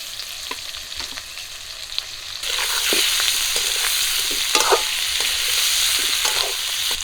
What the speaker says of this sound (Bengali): পেঁয়াজ আর কাঁচা লঙ্কা একটু হালকা করে ভেজে নিয়েছি এখন দিয়ে দিচ্ছি সিদ্ধ করা আলু